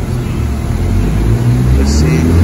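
A BMW 135i with a JB4 stage 1 tune roars on a dyno at a college car show, its engine a loud sustained drone that builds under a faint voice.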